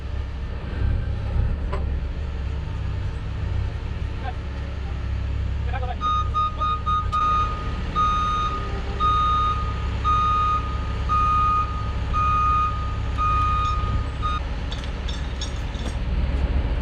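A lifter moving a molasses tank sounds a steady run of reversing beeps, repeating evenly for several seconds over a low engine rumble, fairly close and prominent throughout.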